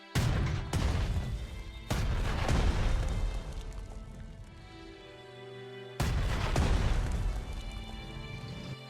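WWII-era artillery in a strategy game set at the Siege of Tobruk, firing three heavy booming shots, each sharp blast trailing off into a long rumbling decay.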